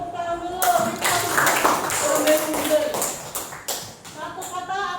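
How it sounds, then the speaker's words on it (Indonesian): Applause from a school classroom, a burst of many hands clapping at close range mixed with students' voices talking and calling out throughout. "Ya, tepuk tangan dulu."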